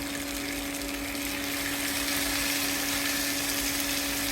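Small Chandpur hilsa fish with onions frying in hot oil: a steady, dense sizzling hiss that holds evenly throughout, close and fairly loud, with a faint mechanical hum underneath and no talking.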